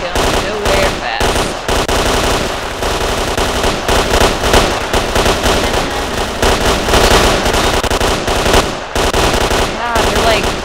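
AK rifle gunfire in STALKER: Clear Sky rattles in loud, sustained automatic bursts with brief pauses between them, close and dense throughout, with other shots mixed in.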